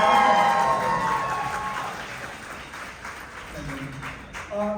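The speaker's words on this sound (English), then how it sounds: "I was hoping for more applause for that" Audience applause and cheering fill a convention-center hall during a Walking Dead: Dead City cast Q&A, loud at first and slowly thinning, with voices and a whoop mixed in.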